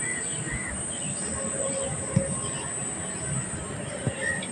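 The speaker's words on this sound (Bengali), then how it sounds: "দেখুন পাখিগুলো ডাকে" A flock of birds, crows and kites among them, calling outdoors: faint scattered chirps and caws over a low background murmur, with a couple of brief sharp knocks.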